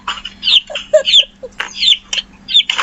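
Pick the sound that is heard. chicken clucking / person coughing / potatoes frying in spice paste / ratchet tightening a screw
chicken clucking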